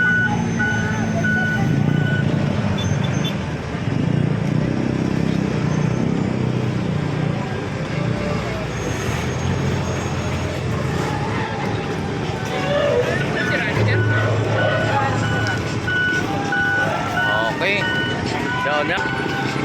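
Dump truck reversing beeps ring out repeatedly during morning street garbage collection in Divisoria, with steady truck noise, nearby talking and crowd babble throughout.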